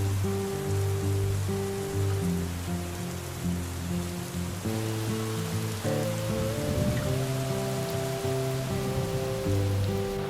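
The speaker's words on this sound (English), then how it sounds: "Our second morning started with rain, which fortunately didn't last long." Steady rain falls on a morning during a hike in Austria, a continuous even patter on surfaces, moderately loud and close, with no voices.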